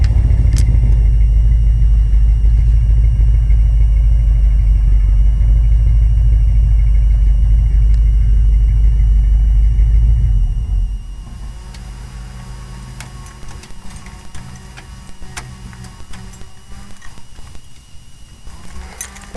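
A generator hums loudly and steadily for about ten seconds, then cuts to a much quieter, thinner drone with faint ticking, its buzzing switching on and off.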